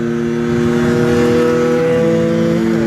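Rieju MRT Pro 2017 motorcycle engine running steadily while riding on the road, a loud, close, continuous drone with slight pitch shifts near the end.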